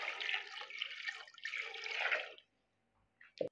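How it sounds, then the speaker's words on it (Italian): Water poured into a pot over a fish carcass with parsley stems, olive oil and salt, a steady close splashing pour lasting a couple of seconds, then a pause and a brief knock at the end. "Copriamo d'acqua"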